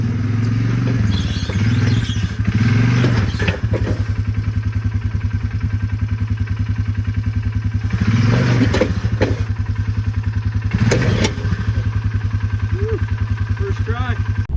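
An ATV engine idles loudly and steadily up close while the machine is loaded onto a small trailer, with a few brief throttle swells and clattering knocks over the constant rumble.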